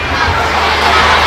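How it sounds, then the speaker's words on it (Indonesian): Sixth-grade elementary schoolchildren at a storytelling event in Dumai fill a hall with loud, continuous clapping mixed with crowd noise and scattered shouts from start to finish. "Tepuk tangan yang meriah semuanya yuk"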